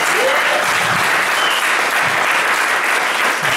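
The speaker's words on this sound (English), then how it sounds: "everybody please give a round of applause for our brother" An audience at a lecture in Copenhagen, Denmark, claps continuously, producing a dense and even wash of applause that holds at the same loudness from start to finish, with no speech breaking through.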